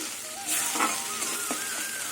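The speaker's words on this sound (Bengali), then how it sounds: "গ্যাসের আগুনটা কমিয়ে দিয়ে মশলাটা এখন কিছুক্ষণ কষিয়ে নেব" Boiled spice paste sizzles in a pan over a lowered gas flame while being stirred for a duck egg curry, a soft continuous fry with brief scraping strokes.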